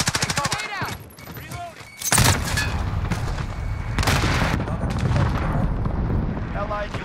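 Cluster strike explosions in Call of Duty: Modern Warfare, with a dense run of heavy booms and crackling blasts rolling on for several seconds after a short lead-in of game chatter, loud and close.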